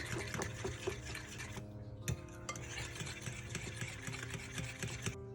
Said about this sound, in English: Use your fork and just mix everything in